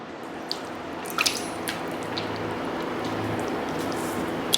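Water drips and splashes softly while a face is washed by hand during a skincare routine, a few light wet taps over a faint steady background hiss.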